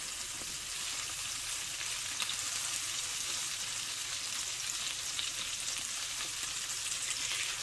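Homemade hash browns fry in butter in a pan, giving a steady, dense sizzle that hisses evenly and fairly softly throughout, with no talking.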